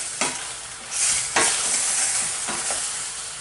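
Steady sizzling of squirrel meat frying in a crowded pan, with occasional scrapes and stirs of a utensil cutting through the crackle.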